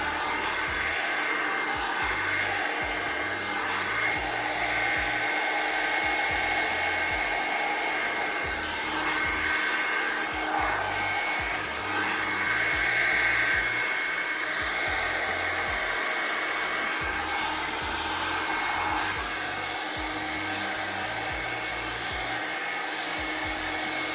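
A Revlon blow dry brush runs steadily while drying hair, a loud constant motor whir and air rush. It carries on alone for the full stretch with only slight changes as the brush is worked through the hair.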